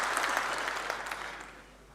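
A keynote audience at a gaming fan convention gives brief, fairly distant applause that fades off over a couple of seconds.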